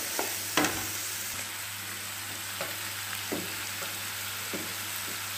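Masala with green chillies and ginger fries in a pan for a soya curry, a constant close sizzle with a low steady hum under it and scattered knocks of a stirring spoon.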